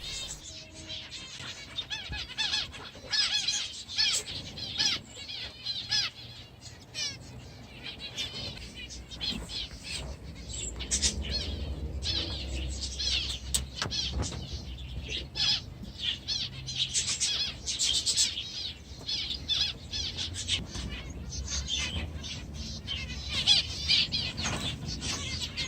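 Finches in an aviary, with many small high chirps, squeaks and twittering calls overlapping throughout, plus occasional wing flutters and faint background hum.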